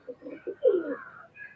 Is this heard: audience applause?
no